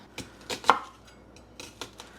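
A knife chops meat and vegetables for weekly meal prep: about six crisp, separate strikes on a board in two small clusters, close but fairly quiet, with no talking.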